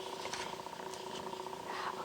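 A cat purrs in a low, steady continuous rumble, close and soft, under a hushed indoor background.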